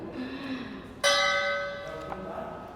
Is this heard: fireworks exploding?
no